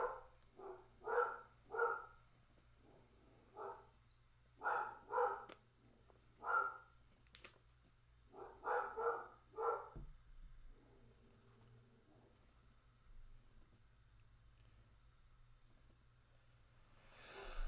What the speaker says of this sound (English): It is a dog.